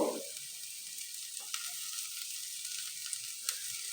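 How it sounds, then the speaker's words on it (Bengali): Kachki fish sizzling steadily in hot mustard oil, a close, continuous frying hiss with a few soft scrapes and taps of a spoon stirring through the pan. "এই চামচটা দিয়ে হালকা হাতে আবারও একটু নেড়ে দেব"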